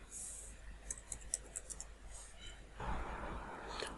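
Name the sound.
typing an IP address on a computer keyboard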